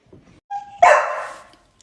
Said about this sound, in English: Shh, don't bark at Charlie